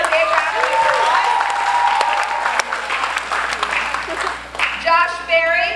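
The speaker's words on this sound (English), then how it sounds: "Give them a big round of applause." Crowd at a ballpark kids' event claps in a modest burst of applause, mixed with a voice over the public address and background crowd noise, thinning and fading toward the end.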